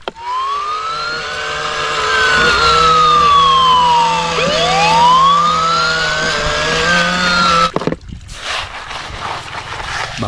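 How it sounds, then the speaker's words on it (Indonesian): A toy fire truck's electronic siren wails in rising and falling sweeps, loud and close, running steadily for about eight seconds before cutting off into brief handling noise. "Mobil pemadam kebakaran."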